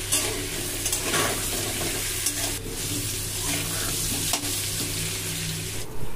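Potatoes coated with salt and turmeric fry in hot oil in a pan, giving a loud, continuous close-up sizzle with occasional scraping knocks, over a steady low hum; nobody speaks.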